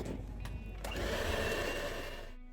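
An electric mixer whirring steadily as it beats vanilla cupcake batter of milk and flour, a close, continuous motor drone that swells slightly midway.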